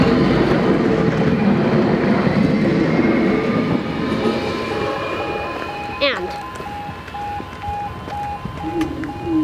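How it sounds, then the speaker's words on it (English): A tram in Nottingham rumbles along the rails close by, with a screech of wheels and a chiming bell, while people talk over it. "There's a tram."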